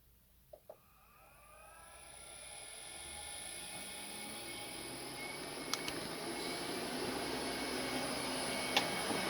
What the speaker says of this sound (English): I can hear the engine running